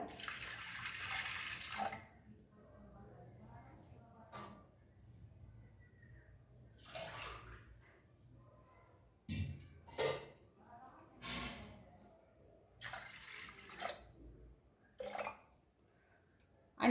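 Water trickles and splashes intermittently into a pot of toor dal lentils with turmeric, with a quiet voice talking between the pours.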